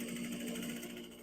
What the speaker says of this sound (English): then I'm again top stitching